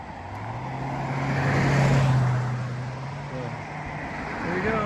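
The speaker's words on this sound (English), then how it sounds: "Here comes a bunch of cars." Cars passing on New York Route 301 beside a lake, a steady broad road roar with a low engine drone that swells near the middle and fades, heard up close from the roadside.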